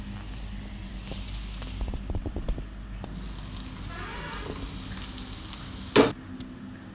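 Carrots and beans are added to a pan and fry for Maggi noodles. Steady sizzle with light stirring clatter, and one loud sharp clank near the end, with no voices.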